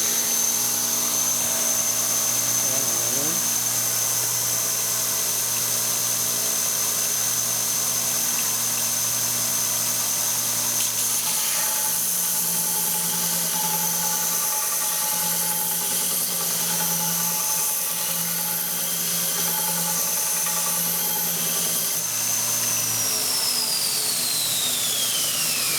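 A homemade belt grinder built into a box runs with a 120 grit belt, a loud continuous motor whine with a high steady tone that winds down toward the end.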